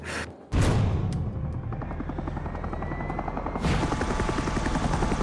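A helicopter in the Mark of the Ninja video game drones with a steady rotor throb, then surges louder as it lifts away, holding the dense buzzing chop to the end with no voices over it.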